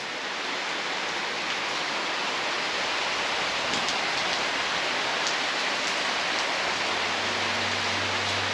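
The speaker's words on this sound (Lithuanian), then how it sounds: "Tik atvykom ir pradėjo pilti lietus." Heavy rain pouring down in Bali, a dense, even hiss of drops hitting surfaces, loud and continuous with no pauses, a low hum creeping in near the end.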